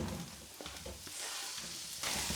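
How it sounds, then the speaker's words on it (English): Sliced leeks sizzle in hot olive oil in a frying pan, giving a steady, bright crackling hiss close up, with a few soft stirring knocks and the frying rising slightly toward the end. "I will leave them to sizzle on their own for a couple of minutes"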